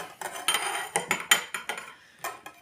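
Kitchen knives clink and clatter against each other and against dishes as they are readied for cutting a Valentine's cake. The sharp metallic taps come in an irregular run, close and fairly loud, with no talk over them.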